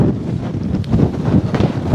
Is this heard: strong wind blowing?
yes